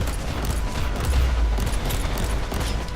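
Volleys from a bolt gun in Warhammer 40,000: Inquisitor - Martyr, a dense stream of rapid, loud, overlapping shots with heavy low thumps and mechanical clatter throughout, with no speech.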